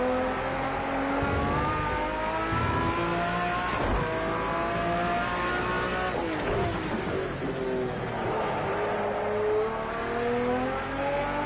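A V12 GT3 race car engine screams continuously at high revs, rising and falling through gear changes, loud and close with no talking over it.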